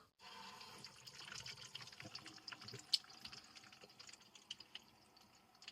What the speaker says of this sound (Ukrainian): Так, подаємо воду.